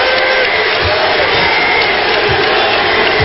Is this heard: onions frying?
no